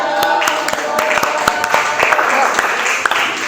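A short burst of group clapping from a classroom full of people, the claps scattered and uneven, with a voice speaking briefly over it.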